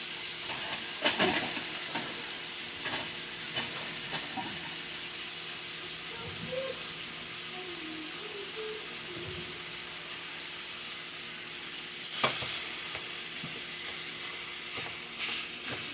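Chorizo fries in a pot with a steady, close sizzle and hiss, broken by a few sharp scraping clanks as a hamburger grinder breaks up the meat.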